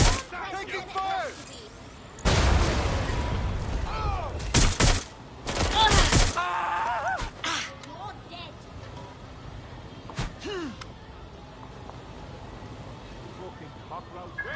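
Video game gunfire in rapid bursts, with loud volleys of automatic fire and scattered single shots echoing, interleaved with a player's shouted remarks between the shooting.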